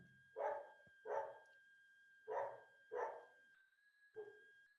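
A dog barks five times in evenly spaced pairs, moderately close, while a faint steady electronic tone hums behind it and no one speaks.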